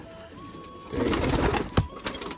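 Soft, low pigeon cooing close by, a few muffled burbling calls with light rustling and a faint hum in the background.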